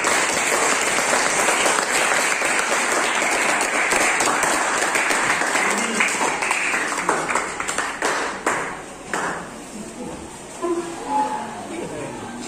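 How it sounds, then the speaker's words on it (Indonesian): A secondary school class of students claps for themselves in sustained, close applause for several seconds, tapering into scattered claps and quiet voices toward the end. "mari kita beri tepuk tangan untuk diri kita sendiri"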